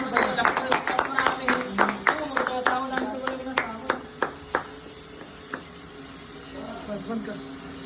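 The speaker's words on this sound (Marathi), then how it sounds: "टाळ्या वाजवा" A small group claps at a wedding ceremony during Marathi mangalashtak blessings, brisk overlapping hand claps that thin out into a few scattered ones and then fade, with faint voices underneath.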